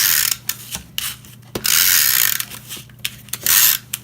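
A tape runner rolls double-sided adhesive onto Lawn Fawn cardstock panels in several short ratcheting, clicking bursts, close and fairly loud, with brief pauses between strokes.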